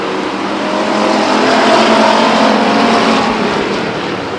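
Race cars roar around the oval at Stockton 99 Speedway in a 2001 race, running door to door in a loud, steady engine drone that swells and fades slightly as the pack passes.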